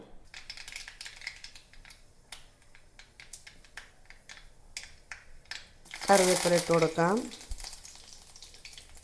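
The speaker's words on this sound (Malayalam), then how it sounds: "ചട്ടി വെച്ചിട്ടുണ്ട് എണ്ണ ഒഴിച്ചിട്ടുണ്ട് എണ്ണ കാനിട്ട് അല്പം കടുക് പൊട്ടിക്കാം" Mustard seeds give scattered sharp pops and crackles in hot oil in a pan under steady talking, swelling into a loud burst of sizzling and spitting near the end.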